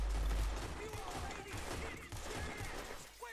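Gunfire in the Wild West game Red Dead Redemption 2 crackles in rapid, dense volleys under a voice, with a heavy thump at the start.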